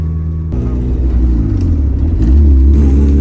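Boosted Honda CRX engine revving hard while driving, a loud, steady low rumble that climbs in pitch and grows louder toward the end, with faint voices mixed in.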